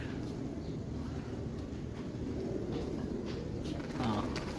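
Low, soft pigeon coos drift through a steady rush of background noise, with a slightly clearer coo near the end.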